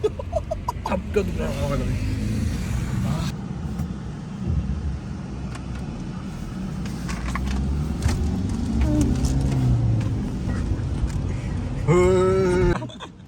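A new luxury car drives along with a low, steady road and engine rumble inside the cabin, running under lively talk and laughter between passengers.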